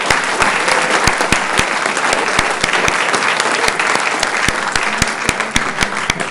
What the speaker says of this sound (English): give a big round of applause to the Masonic Lodge here in West Sacramento for their generosity